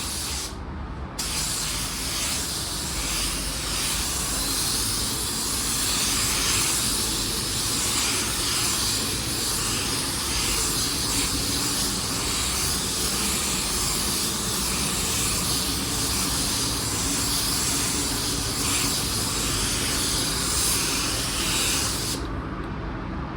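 A spray gun lays a drop coat of paint during a two-tone paint job, giving one continuous, close, even hiss that runs steadily for over twenty seconds with no breaks.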